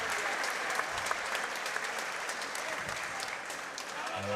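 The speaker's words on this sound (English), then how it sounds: "a huge round of applause" Crowd at an amateur K1 kickboxing fight applauding after the bout, a steady wash of clapping throughout, fairly distant and even in level.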